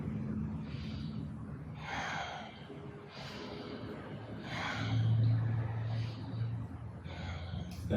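Rapid, rhythmic breaths during a neck-roll meditation exercise, a series of loud airy inhales and exhales about a second apart, close to the listener.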